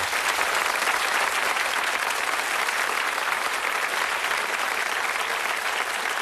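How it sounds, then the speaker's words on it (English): Studio audience of the British TV quiz show Bullseye gives contestants a round of applause, a dense, even roar of many clapping hands that stays loud and constant from start to finish with no talk over it. "Give them a round of applause."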